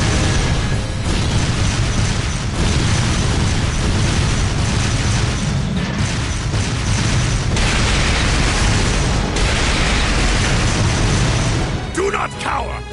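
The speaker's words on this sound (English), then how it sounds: "Fire a barrage to cover your retreat!" Sustained barrage of booming explosions from a battle in the video game Trails of Cold Steel II, dense and loud throughout, with shouted voices mixed in over the continuous blasts.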